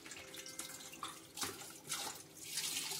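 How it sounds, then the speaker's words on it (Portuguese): Water runs and splashes into a container of soaking orange peel, a continuous close pouring sound with surges, no voices. "Eu vou jogar essa água fora. E vou acrescentar aqui outra água"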